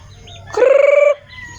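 A single chicken call rings out nearby on a farm, a loud sustained squawk lasting about half a second, with quiet background sounds before and after.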